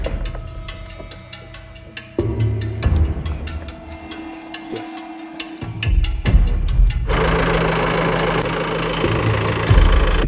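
A JCB excavator's diesel engine, powered by a replacement battery, cranks and catches partway through, then settles into a loud, steady knocking idle, with music playing throughout.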